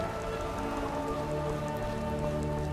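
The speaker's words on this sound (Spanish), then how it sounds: "ya está lloviendo, vamos." Steady rain in Skyrim patters continuously on a surface, a dense even hiss of drops with no voices.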